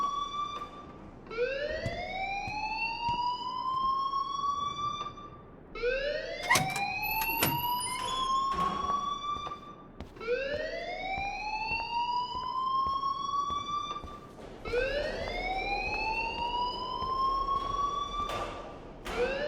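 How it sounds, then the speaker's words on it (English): A fire alarm blares in the video game Life is Strange, sounding four rising electronic whoops at a steady rhythm, loud and close, with no one talking over it. "please turn off that alarm since that's your job"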